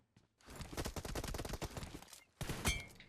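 Rapid gunfire in the PUBG Mobile shooter, with dense bursts of close, loud shots packed over about two seconds, a short pause, then another sharp volley.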